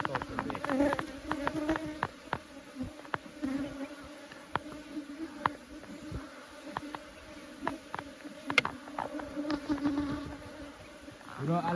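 Honey bees buzz around hive frames during a honey harvest. A close, continuous hum is punctuated by many brief whines as individual bees fly past near the ear, and faint voices occasionally sound in the background.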